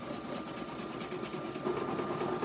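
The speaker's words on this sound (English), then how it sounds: "we're just gonna let it satin stitch over the bottom of the soccer ball" An embroidery machine satin stitches over the bottom of a soccer ball applique, making a quiet, fast, steady mechanical whirring and needle chatter that runs continuously without a break.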